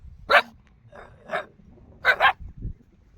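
A dog barks in four sharp, loud bursts close by, with the last two coming in quick succession, then a low huff, over a quiet outdoor background with no talking.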